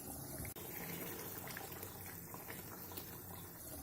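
Red chickpea curry bubbles in a covered pot on medium heat, a faint steady simmering hiss and soft popping broken by one brief dropout near the start.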